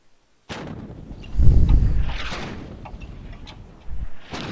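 A 122mm 30-D howitzer game asset fires with heavy booming blasts: a strong low thump near the start, then a rolling echoing tail and a second deep report toward the end, with no voices.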